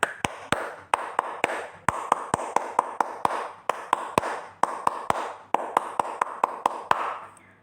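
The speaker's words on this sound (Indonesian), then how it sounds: "ada baiknya kita melakukan tepuk pramuka dulu ya. 2 kali tepuk pramuka" Scouts perform the Pramuka clap twice, a crisp rhythmic sequence of sharp hand claps in patterned bursts with brief pauses between groups, fairly quiet and without talk.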